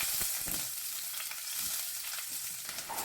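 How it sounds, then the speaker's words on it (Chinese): Ginger and garlic fry in hot oil in a clay pot, a continuous close sizzle with small crackles and pops, no voices. "砂锅中少来点油，油温6、7成热，下入姜蒜"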